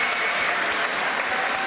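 Boxing crowd applauding at a Shea Neary bout, a dense steady wash of clapping and cheering that fills the whole stretch at full, even loudness with no break.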